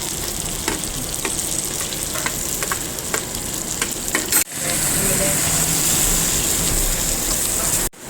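Curry leaves and coconut pieces fry in a pan for a Kottayam-style pork curry, a loud, dense sizzle nearby that surges sharply louder midway, as if fresh ingredients hit the hot oil, then holds steady.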